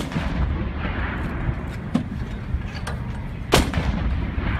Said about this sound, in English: An 18-gun salute to begin the commissioning ceremony of the USS Detroit.